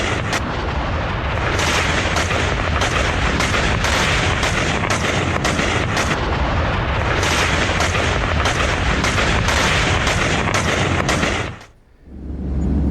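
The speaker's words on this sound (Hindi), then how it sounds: "उसके लड़ाके भी बंदूक थामकर फायरिंग कर रहे हैं" Gunfire from fighters in Lebanon, a loud, dense and nearly continuous barrage of rapid shots that cuts out abruptly near the end.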